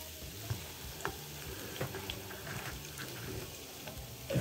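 Peppers and onions frying on a Cuisinart Griddler 5-in-1, giving a steady low sizzle throughout with a few faint clicks and taps from utensils, close by and fairly quiet.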